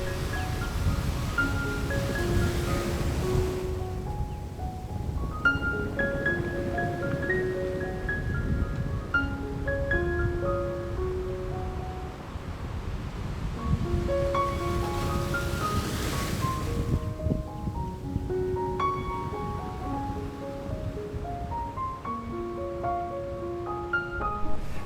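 North Sea waves wash in as steady, close surf under gusting wind noise, with scattered tonal chirps and calls drifting over the constant roar.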